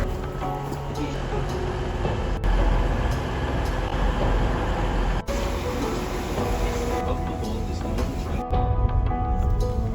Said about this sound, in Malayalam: നമ്മൾ വന്ന ട്രെയിൻ ദേ പോയിട്ടാ.